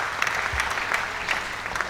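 A crowd at the Asian Airgun Shooting Championship applauds in a steady, dense patter of clapping that fills the whole moment without any talk.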